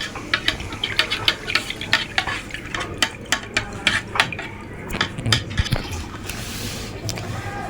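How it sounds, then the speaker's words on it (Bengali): A utensil stirs and whisks milk into eggs in a bowl for homemade pudding. It gives steady rhythmic scraping and tapping strokes, loud and close, with faint kitchen sizzle behind. "এখন আমি ডিমের মধ্যে দুধগুলো মিশিয়ে নিব।"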